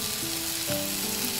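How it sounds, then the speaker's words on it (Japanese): Sliced onions being stir-fried with flour in a gratin base, stirred with cooking chopsticks, giving a loud close continuous sizzle with a faint tonal hum underneath and no talk. "菜箸で炒めていきます"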